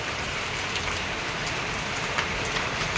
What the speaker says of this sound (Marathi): सकाळचे 7:30 वाजलेले आहेत आणि पाऊस बघा.